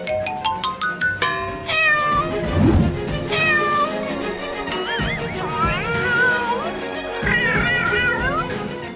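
A cartoon cat meows repeatedly, several drawn-out, pitch-bending cries over background music with a short burst of rhythmic tones at the start.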